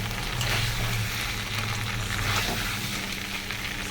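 Cauliflower and tomato sauté in a hot pan for a fish curry, giving a steady, close sizzle and crackle that runs for the whole stretch with no voices over it.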